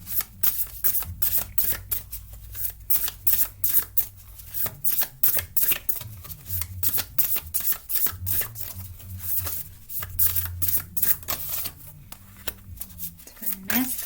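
Oracle cards are shuffled in a quick run of crisp riffling flicks and slides, dense and close, with a low hum beneath and a voice talking over parts of it.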